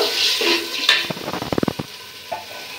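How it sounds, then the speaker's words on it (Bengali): Water hits a pan of fried onions with a sharp sizzling hiss. A quick run of scraping, rhythmic stirring follows, close and clear, and no one speaks. "এখন মশলা দেওয়ার জন্য একটু পানি দিয়ে দিব"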